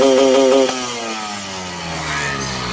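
A Yamaha RX King two-stroke motorcycle engine revs hard against a limiter button in short pulsing bursts, then drops back to a lower, steady running note, loud and close with no talk.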